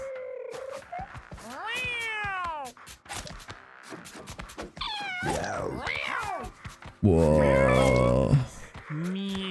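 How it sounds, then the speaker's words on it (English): Cats in the video game Mewgenics meow and caterwaul in a noisy run of rising and falling yowls, some long and loud, others short, amid quick clicks, with a brief exclaimed word from a person. "all the cats are making insane amount of noise in the background"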